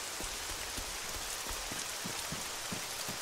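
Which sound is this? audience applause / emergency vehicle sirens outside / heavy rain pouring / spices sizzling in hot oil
heavy rain pouring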